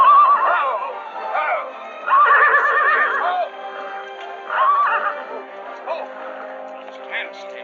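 A horse in a 1940s western film whinnies and neighs several times in close, shrill bursts, with softer snorts between them.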